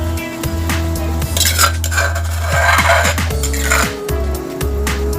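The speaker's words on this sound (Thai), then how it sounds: "พริกที่เราโขลกไว้ก็ ใส่ ไปเลยครับ ลงหม้อเลยนะครับ" Pounded Thai chili paste tipped into a pot of boiling water for kaeng som with fiddlehead fern and soft pork rib bones, with repeated clanks and scrapes of a metal utensil against the pot over a steady low hum, close and fairly loud.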